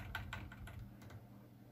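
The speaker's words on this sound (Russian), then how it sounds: "Мы опускаем просто на клавиатуре стрелочкой вниз." Several quiet clicks of arrow-key presses on a computer keyboard come in a quick irregular burst, then fade into faint room hum, with nobody speaking.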